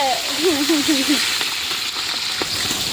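Green chillies sizzle and spit in a hot pan with a continuous hissing fry, while a voice briefly speaks over the sizzle at the start.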